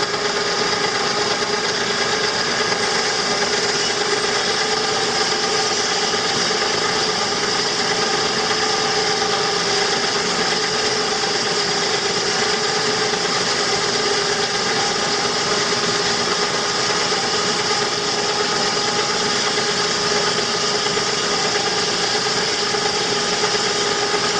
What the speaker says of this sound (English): I've got an automotive transformer firing up a 12-volt winch. There we are, we're firing into that log.